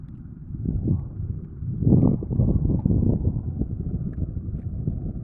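Outrigger fishing boat (bangka) from Sariaya, Quezon heading out to sea off Mercedes, Camarines Norte, its engine a steady low rumble mixed with wind buffeting the microphone, with no talking.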